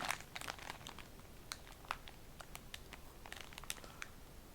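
A plastic food cover crinkles and crackles as hands handle it up close, a quiet run of irregular sharp crisp rustles with no talking.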